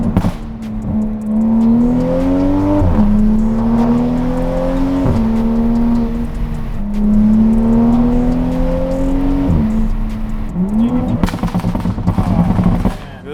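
A Toyota A90 Supra fitted with a Tomei titanium exhaust revs loudly in long rising pulls, with sharp burble pops and crackles between them and a dense popping burst near the end, close and alone.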